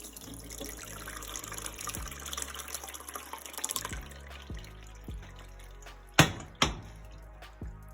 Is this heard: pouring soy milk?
yes